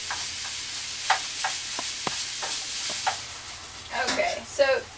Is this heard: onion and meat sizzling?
yes